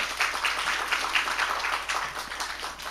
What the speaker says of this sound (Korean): 격려의 박수 부탁드리겠습니다